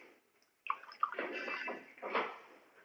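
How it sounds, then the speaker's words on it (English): Water is poured into a glass in a quiet room, a short, close splashing and trickling burst lasting about two seconds after a moment of silence. "Now another glass also I am taking water."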